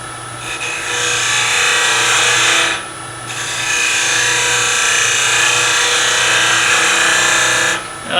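A steel scraper cleaning up a piece of brown ebony spinning on a wood lathe: a loud, close, continuous rasping scrape under the motor hum, broken twice by short pauses.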